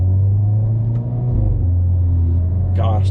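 Hyundai Veloster N with dual-clutch gearbox, engine droning steadily at low revs before a sharp burst of exhaust crackle near the end of the short stretch, with a voice speaking over the cabin rumble.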